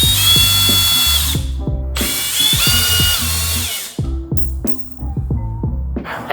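Power drill or impact driver whirring in repeated short bursts with ratcheting clicks as screws are removed from a car's front wheel well, an Audi R8, close and loud with no talk.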